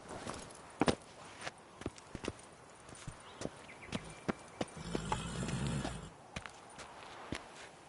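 The horse Roach clip-clops at a walking pace in a PS4 video game, sharp hoofbeats falling in an irregular rhythm at close range, with a soft rumble partway through and no speech.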